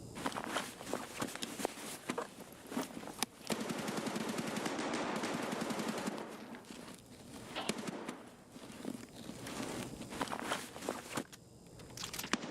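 Rapid bursts of AKM rifle fire in the Escape from Tarkov video game, with dense automatic volleys and single cracks over about twelve seconds, mixed with footsteps and movement sounds, fairly loud throughout.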